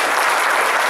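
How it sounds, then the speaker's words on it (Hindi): A concert audience at a tribute evening breaks into dense, loud applause, a continuous wash of many hands clapping. "जरा जोरदार तालियां फिर एक"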